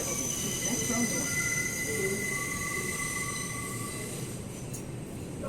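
A New York City 5 subway train at Grand Central–42nd Street station, with sustained metallic wheel squeal over a steady rumble of rolling railcars, close and continuous throughout.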